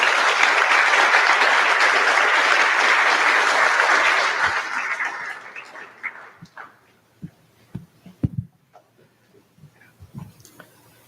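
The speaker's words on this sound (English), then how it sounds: "Let's hear one more round of applause for Dr. Lee." Loud, sustained applause from an audience at a public talk that fades out after a few seconds, leaving scattered knocks and small thumps in a quiet room.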